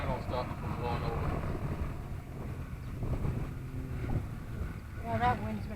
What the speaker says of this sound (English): that wind's been fierce all day